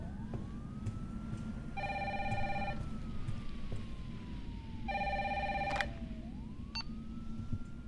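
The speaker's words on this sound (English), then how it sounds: "And then the phone's ringing." A telephone rings in the video game Resident Evil 3 Remake, two distinct bursts of a bright electronic ring, each lasting about a second, over a steady low game ambience with a faint wavering tone.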